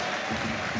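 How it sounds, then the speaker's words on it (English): Home fans applauding a substituted goal scorer at a St Mirren versus Rangers football match, a dense, steady wash of clapping from the stadium crowd throughout. "Ayunga comes off to rapturous applause from the home fans"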